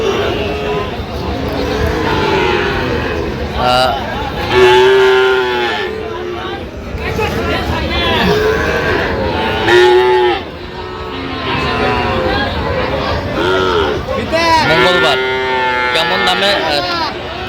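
Cattle, including Sahiwal bull calves, moo now and then amid a noisy livestock market in Noakhali, Bangladesh, with people talking throughout and several low calls standing out.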